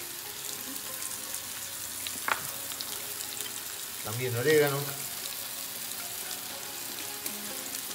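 Salted vegetables fry in a skillet for a spicy taco salsa, giving a soft, steady sizzle in the background with a brief louder stir, while a voice speaks briefly.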